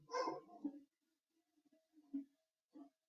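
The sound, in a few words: dog barking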